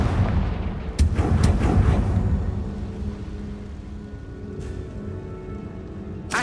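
Confringo, the fire-blast explosion spell in the video game Hogwarts Legacy, lets out a heavy booming blast with a couple of sharp cracks, then a long rumbling decay and a fainter thud later on.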